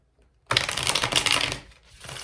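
A deck of tarot cards is shuffled in one brisk riffling burst lasting just over a second, close and crisp, then settling into softer handling noise.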